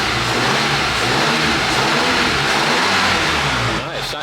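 A VW Golf R engine fitted in an Audi S3 revs loudly and up close, a dense raspy drone that swells and dips in short blips before easing at the end, with some talk mixed in.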